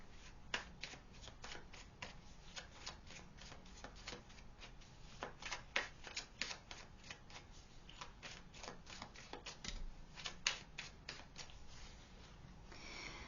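Tarot cards shuffled again and again during a reading: quiet, close bursts of riffling and flicking in an uneven rhythm, no talk.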